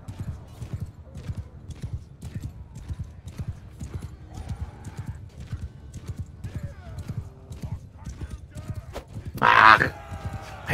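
Horse riders' hooves clip-clopping steadily in a medieval strategy video game, with a brief whinny near the end and quiet background game sounds.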